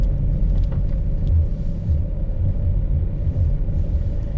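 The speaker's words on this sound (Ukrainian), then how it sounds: "Вон вони їдуть назад." Utility crew vehicles from an electricity company driving past nearby, heard as a loud continuous low engine rumble with no break throughout.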